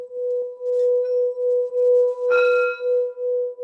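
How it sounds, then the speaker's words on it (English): A struck gong bowl rings with a sustained, pure tone that holds steady, with a brief extra strike or touch adding bright overtones partway through. "this is the tone you get when you hit one of these gong bowls"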